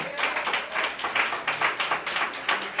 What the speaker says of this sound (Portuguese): Você deu uma salva de palmas ao Senhor.